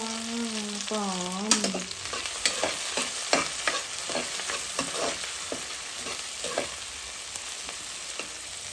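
Country chicken curry fries in a pan until brown, a steady broadband sizzle with repeated scraping stirs of a spatula; a brief harmonic tone rises near the start, and no one speaks.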